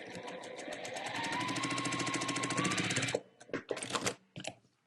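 A sewing machine stitches a seam on a quilt block, a steady fast mechanical whir with rising pitch for about three seconds, then stops and gives way to soft handling clicks and rustles.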